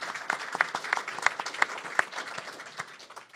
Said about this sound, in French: Oui. applaudissements.